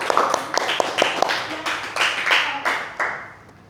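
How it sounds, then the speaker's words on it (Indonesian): Children clapping for a classroom group, several loose bursts of hand claps in quick uneven rhythm, near and moderately loud, fading off at the end. "Tepuk tangan anak-anak ya untuk kelompok 3"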